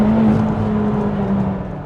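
A McLaren 720S makes a launch-control start, a loud, close engine drone with a strong, steady low tone that fades slightly over a couple of seconds as it pulls away.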